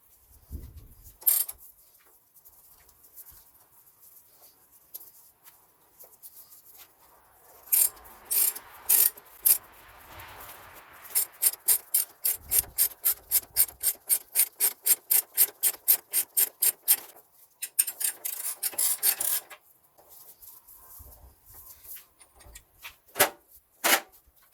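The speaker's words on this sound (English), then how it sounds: "with a 27 millimeter spanner on both top and bottom, we're going to start ratcheting and inserting this in" A spanner ratchets a rear axle bush into a BMW E39 Touring with a 27 mm spanner on the top and bottom. Long runs of quick, even metallic clicks come in bursts, close and fairly loud, with rubbing scrapes between them and no talk.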